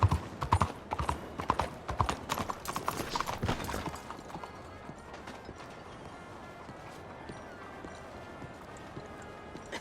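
Galloping horse hooves from the game Red Dead Redemption 2, loud rapid clip-clop beats for the first four seconds, then easing off into quieter ambient noise with faint scattered hoof and movement sounds.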